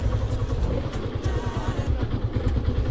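A motorcycle rumbles over a rough, barely paved mountain road in the Warwan Valley, its engine chugging in an uneven pulsing rhythm with rattles and clatter, close and continuous.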